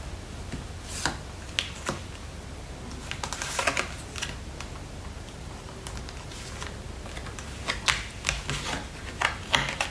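Tarot cards being shuffled during a love reading, giving a soft, continuous riffling patter with scattered sharper snaps and slaps from the deck, close and fairly quiet, no voices.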